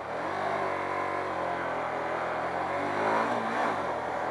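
Hyosung GT250R motorcycle engine revving, a close, steady mid-pitched buzz that swells slightly toward the end, with no talk.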